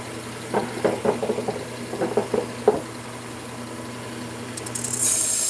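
A KitchenAid kitchen knife drawn across a 600 grit sharpening stone gives a quick run of rhythmic rasping strokes in two bursts, close and clear, followed by a quieter stretch.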